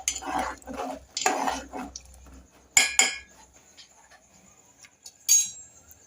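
A spoon stirs payasam of rice and sago in a cooking pot, giving scraping bursts and sharp metallic clinks against the pot, spaced irregularly with quiet gaps between.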